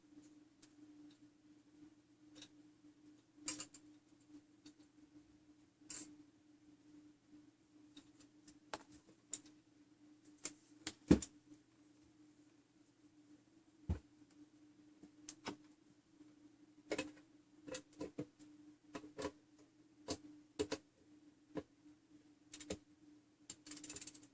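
A ship's fusee clock under repair ticks softly and irregularly, with scattered sharp mechanical clicks and ratcheting over a steady low hum, close and quiet throughout.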